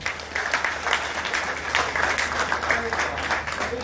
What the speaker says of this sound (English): Please give her a mighty round of applause